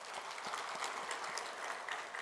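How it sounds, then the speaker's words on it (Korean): Steady crowd applause from a church congregation during a service, continuous dense clapping filling the whole stretch without a break. "격려의 박수 한번"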